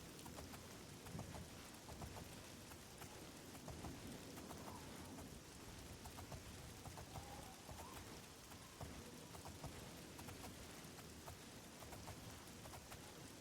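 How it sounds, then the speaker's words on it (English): Steady heavy rainfall pours down in Oblivion, a dense, constant hiss of drops with no pauses and no voices. "I really wish it wasn't always fucking raining in this game."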